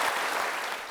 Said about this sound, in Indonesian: Kita kasih tepuk tangan untuk Bimbo.